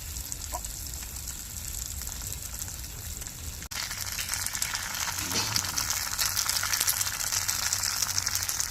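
Masala and tomato sauce sizzle and spit as they are sautéed in a pan for a fish curry, a continuous crackling fry that grows denser and louder after a brief break midway.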